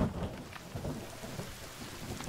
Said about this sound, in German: Oh, es regnet sehr schön.